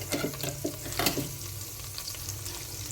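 Masala fries in melted ghee with a soft, close sizzle and a few quick stirring clicks early on, then settles into a quieter steady crackle.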